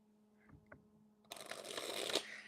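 A few soft taps, then a steady burst of papery riffling as a deck of cards is shuffled close by, rising and continuing to the end.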